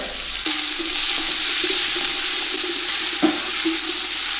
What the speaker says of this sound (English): I'm going to cook the capsicum in the sauce